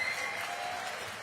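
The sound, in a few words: audience clapping during a mayoral debate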